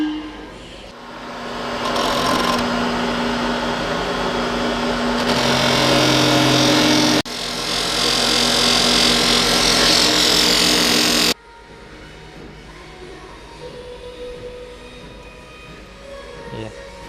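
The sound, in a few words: polishing wheel running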